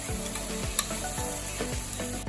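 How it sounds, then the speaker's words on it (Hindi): Tomatoes cooking in a pan until soft, giving a steady close sizzle and frying hiss while a utensil stirs and scrapes the pan in repeated strokes. "ओके टमाटर थोड़ा सॉफ्ट होने तक कुक करना है इसे।"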